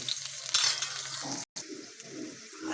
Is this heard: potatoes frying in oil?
yes